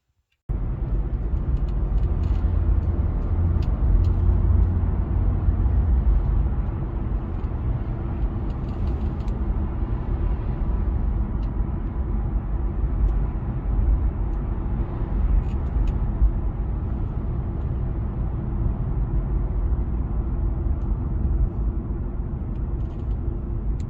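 Inside a moving BMW car, a steady low road and engine rumble runs unbroken for the whole stretch, with no talk over it.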